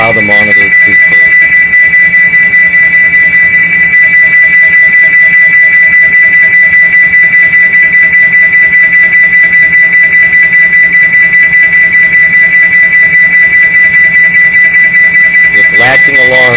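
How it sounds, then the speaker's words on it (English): Honeywell portable gas detector sounding its alarm during a bump test: a loud, steady, piercing electronic tone with rapid pulsing that runs unbroken for the whole stretch, close to the device. "ensuring all sensors go into alarm and you have the proper lights and things"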